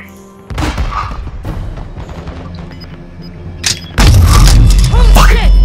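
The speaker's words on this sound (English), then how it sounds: "Tossing smoke grenade!" A smoke grenade thrown in Call of Duty Warzone 2 lands as a loud burst, followed by a heavy, sustained roar of game noise, with voices talking throughout.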